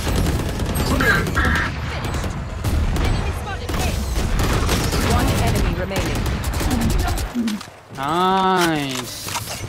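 Enemy gunfire in a Valorant match: loud bursts of rapid shots and booms mixed with a player's shouting, then a rising electronic ability sound near the end.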